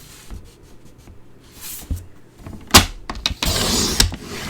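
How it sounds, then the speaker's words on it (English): A small paper trimmer slices a sheet of cardstock down to 11 inches, giving a sharp close scrape and swish that builds to a louder sustained rasp near the end, with scattered handling clicks before it. "let's get my wee little trimmer out. And I'm going to cut this down to 11 inches."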